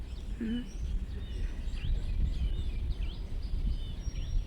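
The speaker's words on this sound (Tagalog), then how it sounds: "Mga tunog ng ibon." Birds sing outdoors with scattered short chirps and tweets, fairly faint over a steady rumbling background of wind or ambient noise.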